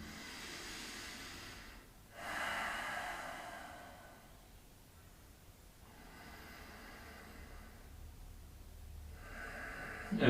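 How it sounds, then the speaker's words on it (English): Slow breaths drawn in and let out through the nose, soft airy swells rising and falling every few seconds with the mouth closed, close and quiet with no talking. "breathing in and out through your nose."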